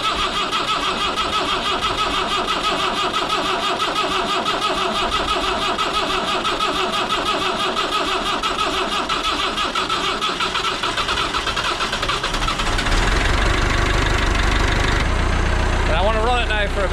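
An old Massey 50B digger engine starts up and idles, a steady mid-pitched diesel drone with a rough rumble that grows louder and fuller toward the end, heard close with no talking over it.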